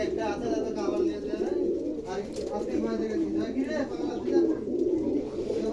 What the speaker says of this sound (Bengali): তো কবুতর আর কবুতর,